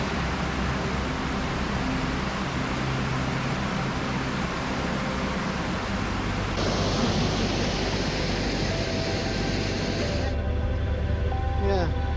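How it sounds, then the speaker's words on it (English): A train rumbles past a canal in Berkhamsted at length, a steady broadband roar with a rising rushing hiss partway through that cuts off abruptly near the end. "I honestly don't know how these narrowboaters sleep at night with the sound of that train."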